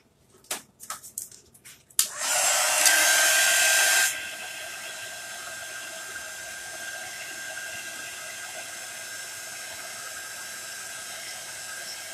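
Hair dryer drying a Chalk Couture craft project of a vintage camper winter scene, starting with a few knocks, then a loud two-second blast of blowing hiss that settles into a steadier, softer airflow hum, with no talking.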